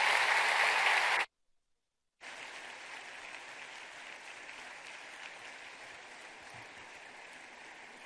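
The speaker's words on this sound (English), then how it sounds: "another round of applause for Mr. Mark Zuckerberg, the founder and CEO of Facebook." An audience applauds Mark Zuckerberg, founder and CEO of Facebook, at the APEC forum in Peru. A burst of dense clapping stops abruptly for about a second, then resumes as steady, sustained applause to the end.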